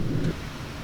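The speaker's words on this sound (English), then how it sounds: "Thunder's getting louder." Low rumbling thunder rolls through a severe thunderstorm, loud and boomy at first and then easing to a steady low roar, with rain falling beneath it and no voices.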